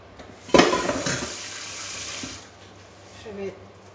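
Water runs and drains from smoked pork shoulder cooked with lentils, lifted on a skimmer over a pot: a sharp splash, then a steady trickle that tapers away, with a faint clink near the end.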